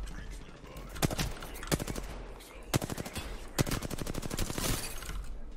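Gunfire in Apex Legends: bursts of rapid shots cut through a busy game mix, with sharp individual cracks standing out near 1, 1.7, 2.7 and 3.6 seconds.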